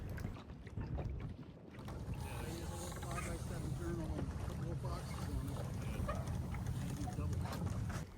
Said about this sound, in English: This is one of the two Caledonia yawls slipping along very nicely in the light air.